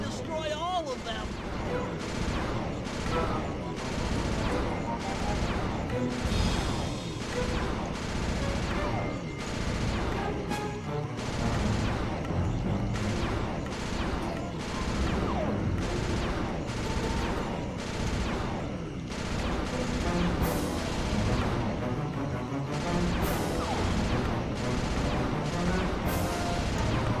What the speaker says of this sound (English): Rajan is raining down a bunch of Hunter-Seeker bombs on Murray.